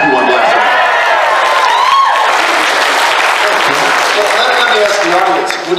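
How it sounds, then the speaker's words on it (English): Loud, sustained applause with cheering and whoops from a convention panel audience, a thick continuous roar of clapping filling the room for several seconds. "Clap if you want Blaster."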